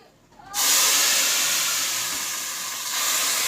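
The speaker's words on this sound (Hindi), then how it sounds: "सूजी हमारी भून चुकी है, तेल छोड़ दिया। अब इसमें शीरा ऐड करेंगे।" Sugar syrup poured into roasted semolina that has released its oil, giving a sudden loud sizzling hiss that starts abruptly and holds steady, alone without speech.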